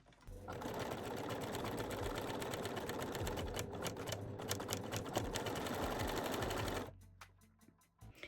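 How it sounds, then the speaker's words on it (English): A cover stitch machine sews elastic onto a nursing bralette, running in a steady, loud mechanical whir with dense rapid needle clatter for several seconds, then stopping abruptly near the end. "I am using my cover stitch machine today"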